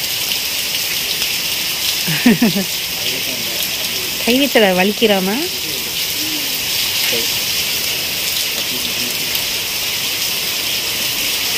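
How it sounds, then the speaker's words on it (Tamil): Heavy rain falls as a steady, loud broadband hiss throughout, with brief voices talking over it near the start. "செம்ம மழை பெய்யுது."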